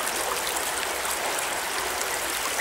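Water flows steadily through a stream inside a tunnel, a dense, even rushing wash with no breaks and no voices, close and moderately loud.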